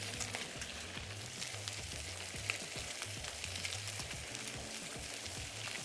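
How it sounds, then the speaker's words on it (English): Chicken pieces browning skin side down in a Le Creuset braiser for coq au vin, giving a steady close sizzle with scattered crackles and pops throughout. "we're going to place the chicken in the pan skin side down"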